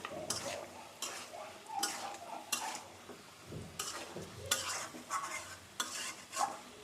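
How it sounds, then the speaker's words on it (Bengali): Salt and mixed spices sautéed in a pan at home, with repeated scraping and clinking strokes of a spoon over a soft sizzle, close and fairly quiet. "এই যে লবণ দিয়ে দিছি এখন কষিয়ে নেব সব রকম মশলাও দিয়ে দিছি সুন্দর করে কষিয়ে নেব"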